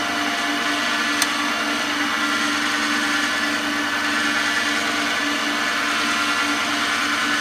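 A skew chisel cuts wood on a lathe while turning a pen, a constant loud whirring rasp with an even scraping texture and a brief click, close up with no talking.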